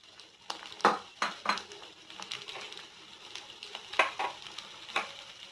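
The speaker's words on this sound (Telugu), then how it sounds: "పచ్చిమిర్చి కూడా వేసుకొని వేపుకుంటూ ఉండాలి" Green chillies and onions sizzle with chilli powder in a pan, a steady frying hiss punctuated by sharp clinks and scrapes of a utensil stirring against the metal.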